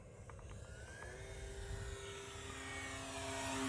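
A Dynam PT-17 radio-controlled biplane flies with a steady propeller drone that rises and falls slightly in pitch, holding at a moderate, even level with a faint whine throughout.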